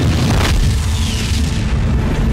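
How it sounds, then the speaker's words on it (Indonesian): A laboratory explosion in a film, a loud deep boom with a rumbling blast that fills the short clip and stays heavy throughout. "laboratorium akhirnya meledak"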